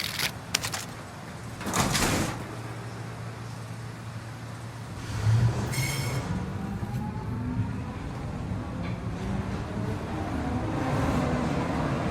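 A subway train rides its rails in the Warzone video game, a steady low rumble throughout, with a louder whooshing clatter near the start and another around the middle.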